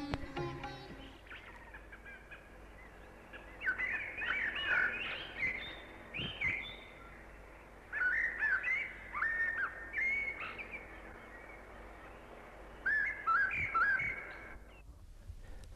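Birds call in a bird sanctuary about 60 km from Agra, India, in several bursts of loud warbling, whistled calls separated by quieter pauses, over a faint steady background with no talking.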